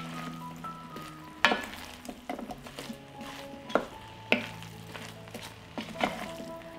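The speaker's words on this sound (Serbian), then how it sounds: "Sve ću to promešati i propržiti 1 minut." Food is stirred and fried in a pan before potatoes go in, a steady sizzle broken by several sharp scraping and clacking strokes of the spoon, close and without speech.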